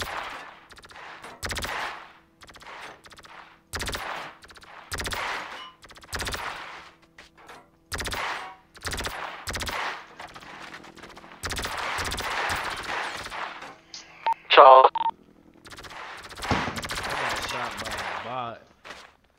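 Video game gunfire comes in sharp, loud bursts of rapid automatic shots separated by brief pauses, with some sustained volleys and a tonal electronic blip partway through.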